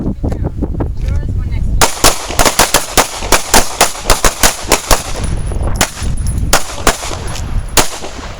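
Pistol gunshots at an outdoor shooting range ring out in a long string of loud, sharp cracks, some in quick succession, with other shooters firing around them and a brief voice near the start.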